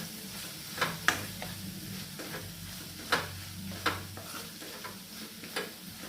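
Tomatoes sauté in a covered pan over a low flame, with a steady soft sizzle and a few light spatula taps and scrapes at irregular intervals.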